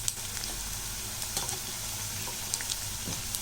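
Maida bonda snacks deep-frying in hot oil give off a soft, steady sizzle with scattered small pops and crackles, fairly quiet and without talk.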